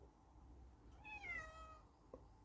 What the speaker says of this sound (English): Getting invaded by cats again.